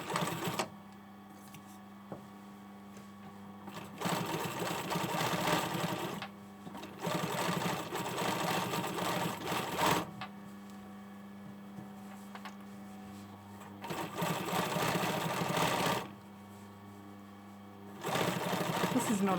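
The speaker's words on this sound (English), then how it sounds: "Now I want to actually top stitch it on the body side." A sewing machine top stitches a hoodie sleeve seam on the body side in three or four bursts of close, steady whirring, with quieter pauses between them where a voice talks.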